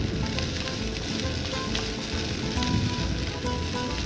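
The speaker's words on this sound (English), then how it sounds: "onion and celery when it's frying? Yeah, I'll show you. So that's sizzling away." Carrot, onion and celery frying in a pan at a campsite in Tasmania, giving a steady, close, dense sizzle that holds for the whole stretch with no talk over it.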